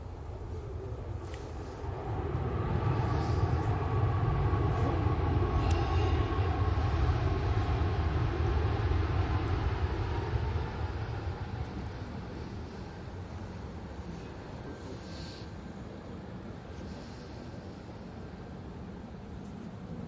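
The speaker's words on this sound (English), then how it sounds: "Yes, it's arriving right now. It's a Ryanair from Dublin." A Ryanair airliner from Dublin arriving at Manchester Airport, a broad, distant engine rumble that swells, holds steady, then fades slowly as the jet passes and rolls out.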